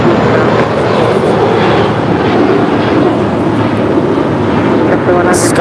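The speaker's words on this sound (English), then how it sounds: "Sky's the limit for this A321 departing to Fort Lauderdale, JetBlue Airways Flight 100." JetBlue Airways Airbus A321 jet departing LAX for Fort Lauderdale, a loud continuous broadband engine roar that holds steady throughout, heard from nearby outdoors.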